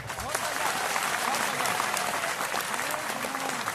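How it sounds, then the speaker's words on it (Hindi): Crowd applause at a Hindi political speech praising the prime minister. Thick, continuous clapping carries steadily from start to finish, with faint voices mixed in beneath. "आपकी तालियां कमजोर है"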